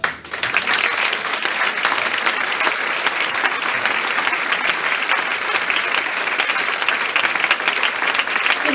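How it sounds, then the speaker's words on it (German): Sustained audience applause fills the hall at a Christmas concert: dense, steady clapping from a large crowd, loud and even throughout, with no talk over it. "Nochmal einen Applaus bitte dafür."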